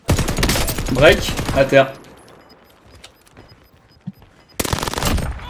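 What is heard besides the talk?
gunfire in a video game shooter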